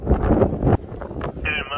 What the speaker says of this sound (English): It is absolutely blowing a gale up here.